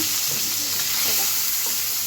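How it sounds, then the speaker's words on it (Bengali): Fish frying in a large 26-inch frying pan, a close, steady hiss and sizzle of hot oil filling the whole moment with no talking. "মাছটাকে একটু ভালো মতন ফ্রাই করে নেব"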